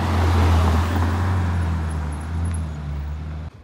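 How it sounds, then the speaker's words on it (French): Ferrari California driving past on a street: a loud, steady low engine drone with road noise that fades slightly toward the end, no talk. "Ferrari California."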